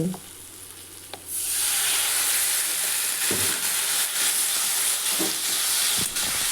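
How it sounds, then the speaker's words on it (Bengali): Ground cumin and ginger paste masala hits the hot pan with a splash of water, jumping from a quiet simmer into a loud, sustained close sizzle broken by a few scraping stirs. "খুব ভালো মতো এটাকে কষিয়ে নিতে হবে"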